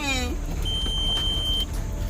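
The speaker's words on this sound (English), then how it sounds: "Is it me because I ain't got no doggone seatbelt on? Is that why it's beeping?" A Volkswagen GTI VR6 sounds its seatbelt warning: a single sustained electronic beep of about a second over the low hum of the running engine inside the car.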